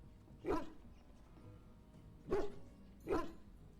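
A hound barks three times in the video game Dragon Age Origins, short sharp barks with a long pause before the last two, loud and close over quiet game ambience.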